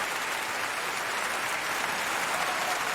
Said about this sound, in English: Let me throw the big hand claps.